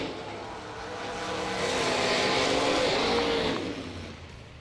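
A dragster makes a drag-racing run at a bracket-racing event. The engine roar swells to a loud, sustained peak as the car passes, then fades away as it moves off, with no voices.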